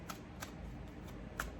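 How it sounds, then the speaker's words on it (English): Tarot cards are shuffled quietly, with a few soft, brief riffling bursts spaced apart over a faint background hiss. "I could shuffle cards."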